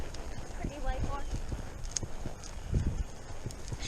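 A white horse walking with hooves clip-clopping in an uneven rhythm, fairly close, while a person talks over the steps.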